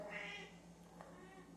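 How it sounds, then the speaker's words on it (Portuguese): A pet cat gives a faint, brief meow in the background of a quiet room, alone and distant. "Eu peço desculpas pela minha gata Miante no fundo, ela está muito carentinha ultimamente"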